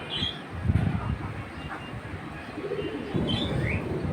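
Pigeons for sale at a market coo and chirp in low, soft bursts amid a busy ambient bustle, with a couple of higher tweets standing out.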